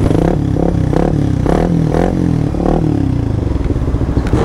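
A Suzuki Raider 150 Fi motorcycle engine with an aftermarket RL Power Pipe exhaust idles loudly and steadily up close, its deep, throaty exhaust pulsing with periodic revs throughout.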